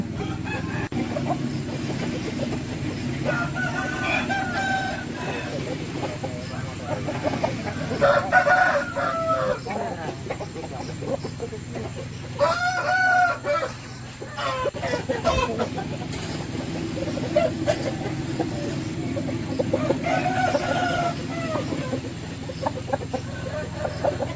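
Several prized breed roosters crow repeatedly in a garden farm setting, distinct calls rising over a steady background of clucking fowl and outdoor ambience.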